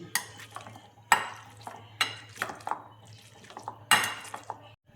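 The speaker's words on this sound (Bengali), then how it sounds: "এবার দেখো গাজর আমি ম্যাশার দিয়ে ম্যাশ করে নিচ্ছি" Cooked carrots are pressed with a masher in a pot while making carrot kheer mohon: sharp metallic knocks and scrapes at an uneven pace, with soft wet squelching between the hits.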